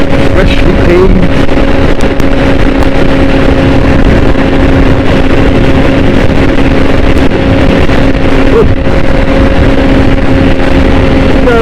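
A Suzuki GSX-R 600 motorcycle on a freshly paved three-lane road gives a steady, loud engine drone with heavy wind rush at the microphone, continuous for the whole stretch.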